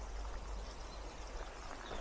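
Water flowing in a woodland along the Camino de Santiago near Finisterre, a steady, soft, continuous rushing with no voices.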